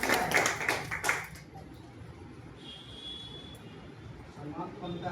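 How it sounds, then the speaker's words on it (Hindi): A short burst of crowd applause for a mat maker at a health gathering rises loudly at the start and dies away after about a second and a half, leaving quiet outdoor ambience with faint birds. "एक बार इनके लिए जोरदार ताली"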